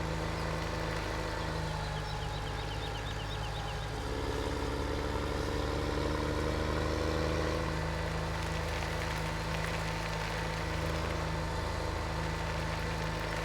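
A 4960 tractor engine runs at a steady drone in the video game Farming Simulator 17, a constant low rumble that swells slightly midway while the machine works, with no speech over it.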